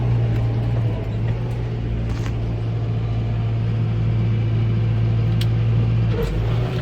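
A tractor engine runs steadily while pulling a hay bob across a field of tedded hay, a loud, constant low mechanical drone with no talking over it.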